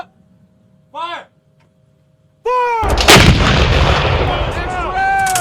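An M777 155mm howitzer fires one huge, sharp blast that rolls into a long, loud reverberating boom. A short whistle-like tone comes just before the shot and brief tonal squeals follow it.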